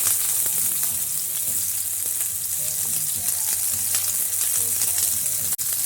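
Onions hit hot olive oil in a frying pan and sizzle steadily, a close, constant crackling hiss with a few light clinks from the pan, and a brief knock near the end.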